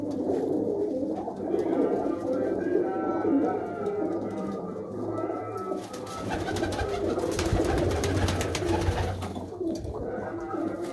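Male pigeons kept by a hobby breeder coo steadily in a low, continuous murmur, many birds overlapping close by, with a brief burst of rustling or wing flapping midway and faint voices in the background.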